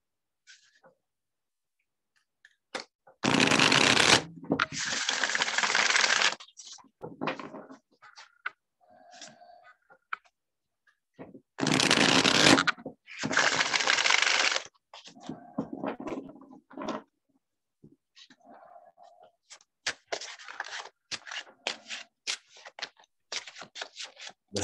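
Tarot cards are shuffled close to the mic in two long, loud riffling bursts, with scattered softer card taps and clicks in the quieter stretches between them.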